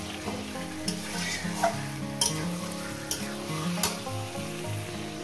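Chicken pieces fry in a pan for a spicy Bengali chicken kosha, with a steady close sizzle and a few sharp scraping stirs of the spoon against the pan. No one speaks.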